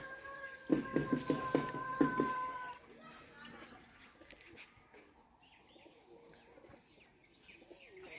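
Pet pigeons, kalpotia, fulshira, fotka and madraji birds with newly released youngsters, coo and chirp in a short clustered burst early on, then fade to faint, scattered calls over a soft outdoor background.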